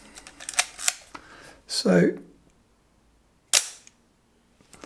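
A Leica M6 film camera fires its cloth focal-plane shutter, a few sharp close mechanical clicks standing out over a quiet room, with a voice speaking briefly between them.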